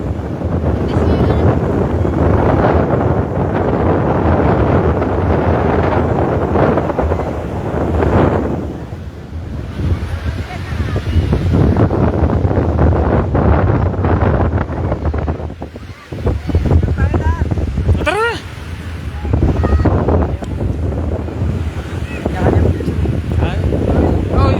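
Loud wind roars and buffets the microphone continuously on the beach at Lingayen, Pangasinan, with surf rumbling beneath and people talking intermittently over it.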